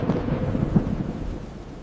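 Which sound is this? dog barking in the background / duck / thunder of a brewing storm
thunder of a brewing storm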